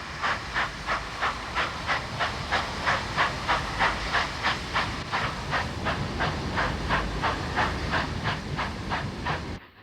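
Great Northern 2-8-2 steam locomotive No. 3386 hauls its train through Williston, North Dakota, in 1951. Steady, even exhaust chuffs beat over a constant loud hiss of steam for the whole stretch.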